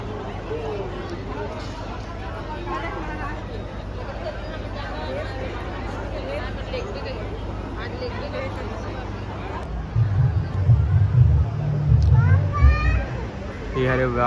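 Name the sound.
large crowd of devotees at Shiv Mahapuran katha pandal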